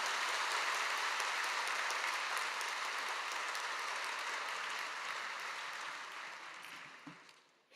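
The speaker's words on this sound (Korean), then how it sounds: "큰 박수로 맞이하시겠습니다" Congregation at a Friday Holy Spirit service in Yeouido Full Gospel Church gives a pastor a warm welcome with dense, steady applause filling the hall, slowly tapering off near the end.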